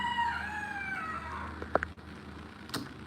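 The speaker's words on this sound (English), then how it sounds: "They got the chicken crowing like a rooster." A chicken crows like a rooster, a long drawn-out call fading after about a second, followed by a few short sharp knocks and a brief later burst, fairly close with no talk.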